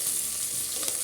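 Onion sautés in a pan for ghee rice, a brief, continuous close-up sizzle with a light crackle and no voices.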